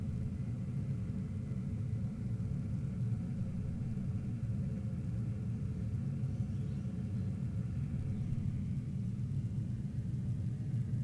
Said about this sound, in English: We'll have main engine cut off very shortly.